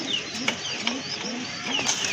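Grizzle pigeons cooing nearby in a series of short, rising-and-falling coos, about one every half second, over a busy background with faint chirps.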